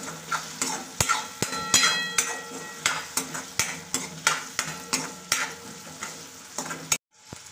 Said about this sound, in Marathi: टमाटर सॉफ्ट होईपर्यंत आपल्याला परतून घ्यायचं आहे।